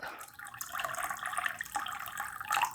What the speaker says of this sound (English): I'm going to get this water right up to the 2 liter mark